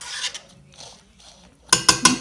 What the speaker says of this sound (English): now I'm going to just throw in the orange juice, give it a bit of a stir